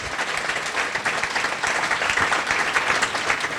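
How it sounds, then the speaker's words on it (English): At an honoring event for women of distinction, a crowd gives a round of applause, dense, even clapping from a room full of people filling the whole stretch without speech. "So let's give ourselves a round of applause."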